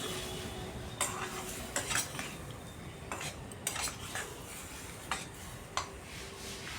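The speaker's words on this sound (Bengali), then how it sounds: "এবার খুব ভালো করে কষিয়ে নিতে হবে।" Green chilli and ginger paste being stir-fried in a pan for a rohu fish curry, with steady scraping and clinking of a spatula against the pan at irregular intervals over a low, constant background hiss.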